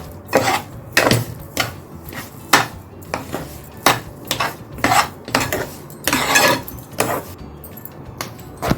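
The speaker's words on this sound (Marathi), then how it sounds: "साखर वितेपर्यंत आपल्याला मंद साचेवर करत राहायचे आणि चमच्याने ढवळत राहायचे" A spoon stirs sugar syrup in a pan for coconut barfi, giving repeated metallic clinks and scrapes in an uneven rhythm, close and fairly loud, with no talking.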